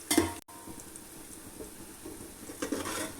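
Onions fry in a pan for hotel-style chicken dum biryani, giving a soft, steady sizzle with a couple of brief clattering stirs near the start and end.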